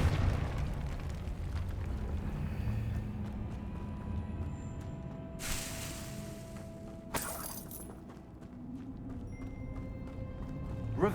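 Confringo spell explosions in the Hogwarts Legacy video game: a rumbling low game ambience broken by two sharp bursts a couple of seconds apart, the second brief and crackling, with no voices.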